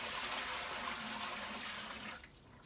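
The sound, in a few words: fleece rinse water being dumped down the drain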